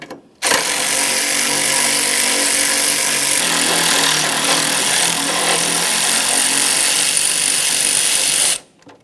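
A power tool runs steadily and loudly, nearly unbroken for about eight seconds, as 10mm mounting bolts come out of the transmission mount bracket on a 2012-2015 Honda Civic 1.8L.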